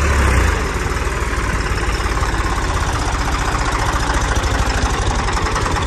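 A tractor engine runs at a steady 1800 RPM, close and loud, with an even rapid knocking thrum throughout and no talking.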